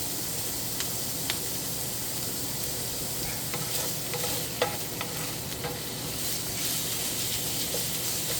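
Beef cooks in olive oil in a pan over medium-low heat, giving a soft, even sizzle with scattered small pops and occasional stirring scrapes throughout, heard alone.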